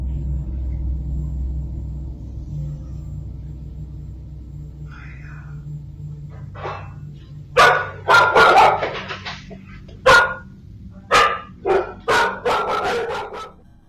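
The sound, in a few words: dog barking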